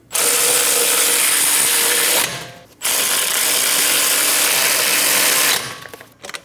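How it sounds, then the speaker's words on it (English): Power tool such as an impact gun snugging down the front caliper bracket bolts on a 2011-or-later Dodge Durango, two loud sustained ratcheting bursts separated by a brief pause, close up with no talk. "Snug the bolts down."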